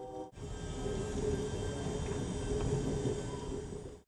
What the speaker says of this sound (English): Now we're moving away from the train station.